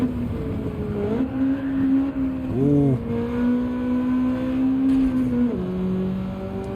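A race car in Gran Turismo 7 is pushed hard, its engine droning loud and steady with pitch rising and dropping through gear shifts and revs, no voices over it.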